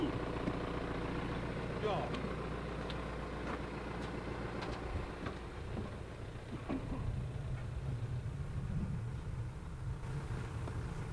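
A new orchard work platform vehicle, a metre longer than its predecessor, idles and maneuvers with a steady mid-range engine drone throughout, while people talk over it nearby.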